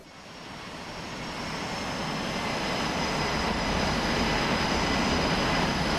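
An F/A-18 Hornet jet in a DCS flight simulator gives a loud, steady engine roar that swells over the first seconds and holds, with no talk.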